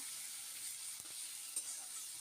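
Ginger, poppy seed and mustard paste stirred into frying bitter gourd give a faint, steady sizzle with a couple of soft stirring clicks, quiet and close.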